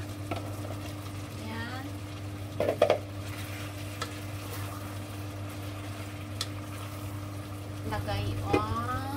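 Pork ribs braise in sauce in a pot as two potatoes and two carrots go in and get stirred, giving soft scraping and bubbling with a few clinks, while a voice speaks briefly over it.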